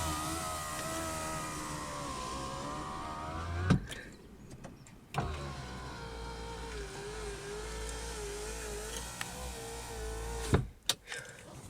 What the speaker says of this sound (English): The electric windows is different, so press the button down and they work.